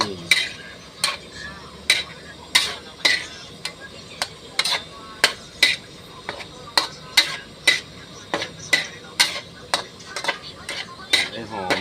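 Chili paste being stir-fried in a pan, a metal spatula striking and scraping the pan in a brisk, steady rhythm of sharp clacks over a low sizzle, close up with no talk.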